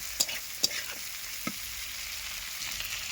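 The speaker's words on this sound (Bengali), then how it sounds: "পেঁয়াজগুলো হালকা ভেজে নেবো" Sliced onions lightly frying in an iron wok over a wood-fired clay stove, a soft, steady sizzle broken by a few sharp clicks and scrapes of stirring.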